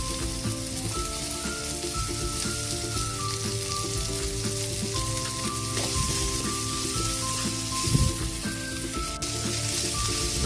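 Garlic and onion sauté in a hot pan for pork ribs kaldereta, giving a steady, fairly loud sizzle throughout with faint stirring scrapes, while light background music plays along with it.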